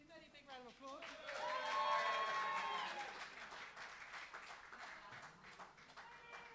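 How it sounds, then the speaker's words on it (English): A live comedy crowd at The Bedford breaks into applause mixed with whoops and raised voices. The clapping swells, then settles into a steady patter. "Give Mehdi a big round of applause."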